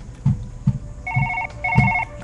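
An in-game telephone rings in Surgeon Simulator 2013: two bursts of rapid electronic trilling, with dull thumps of handling noise before and between them.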